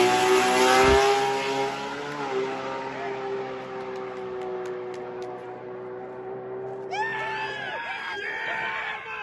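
An R32 race car launches down a drag strip, its engine roaring loud and close at first, then holding a steady tone as it pulls away, with a higher whining note and crowd noise rising near the end.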